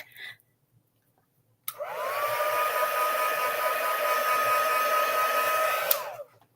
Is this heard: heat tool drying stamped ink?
yes